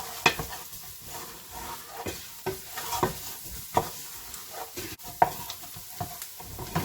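Spiced mixture with cinnamon being stirred in a cooking pot for chilli con carne, soft sizzling under repeated scraping strokes of a spoon against the pan, about a dozen irregular stirs close up.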